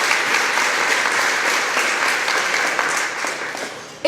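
Steady, dense applause from a large audience at a mayoral speech in Houston, filling the whole stretch at an even, loud level with no talk over it.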